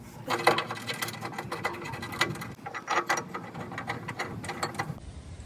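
Ratchet wrench clicking in quick, uneven bursts as a bracket is bolted to a TNT Customs belly skid plate on a Jeep JK, close and fairly loud with brief pauses between strokes.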